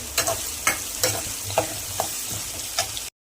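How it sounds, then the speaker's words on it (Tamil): Garlic and curry leaves sauté in a hot pan with a steady sizzle, while a spoon stirs with a few sharp scrapes. The sound is close and continuous, with no voices. "நல்லா பூண்டு இதில் சேர்த்து நல்லா வதக்கிக்கலாம் கருவேப்பிலை போட்டுக்கலாம்"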